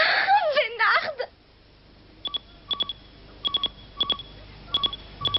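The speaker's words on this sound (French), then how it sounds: "Téléphone!" An old cartoon telephone rings with a series of short, bright electronic double trills, repeated at intervals, following a brief burst of animated voice at the start.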